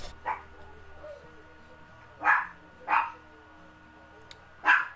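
A dog barks four times in short, sharp bursts spaced a second or so apart, moderately close and loud over a quiet indoor room with faint background hum.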